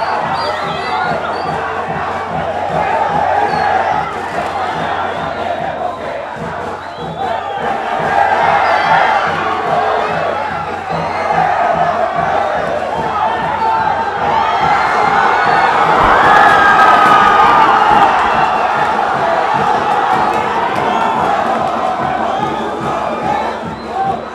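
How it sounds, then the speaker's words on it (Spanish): Junior football fans gathered outside the team hotel before a match against Boca loudly chant a unanimous war cry, a dense crowd roar of rhythmic shouting that swells and keeps going throughout. "los hinchas estallaron en un grito de guerra que fue unánime"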